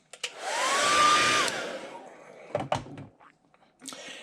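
Hair dryer blowing on fresh paint on a custom shad fishing lure, a loud steady whoosh with a rising whine for about a second and a half, then clicks and handling noises of the painter's bench.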